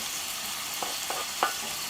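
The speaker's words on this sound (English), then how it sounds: "and for it to fry a little bit more." Bacon kept warm over very low heat sizzles softly and steadily in a pan, with a few small pops and scrapes over the brief span.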